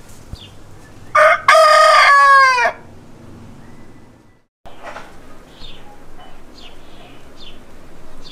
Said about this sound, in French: les vacanciers dérangés par le chant du coq vivent dans la zone rouge